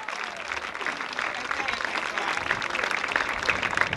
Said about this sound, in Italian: fate questo applauso e via così